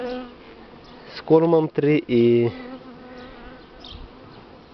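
Buckfast honey bees hum and buzz around an opened hive during a spring inspection, a steady close drone that runs under a man's brief speech.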